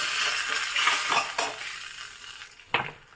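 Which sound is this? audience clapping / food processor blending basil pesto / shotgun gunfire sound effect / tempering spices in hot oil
tempering spices in hot oil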